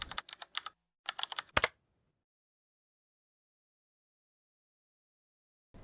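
Clicky computer keyboard keys tapped in quick irregular bursts while typing a terminal command, close and crisp, then a long silence before one last keystroke.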